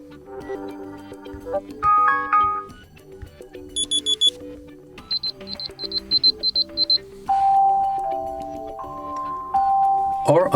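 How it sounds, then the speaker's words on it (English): Several electronic alarm tones play one after another on a Motorola Edge 20 phone: chiming melodies, rapid high beeps and a steady ringing tone, each loud and clear. "select your new alarm sound from the list"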